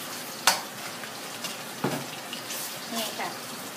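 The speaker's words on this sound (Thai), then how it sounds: "เฮาจะทอดกระดูกหมูไปจนสุกแล้วก็กรอบก่อนนะคะ" Flour-coated pork bones fry in a hot pan with a steady, close sizzle and a few sharp pops and stirring clatters, no speech over it.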